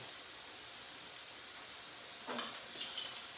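Pot roast meat sears in a pan ahead of a slow cooker braise, giving a faint, even hiss with a short burst of louder sizzle and clatter near the end, without any voices.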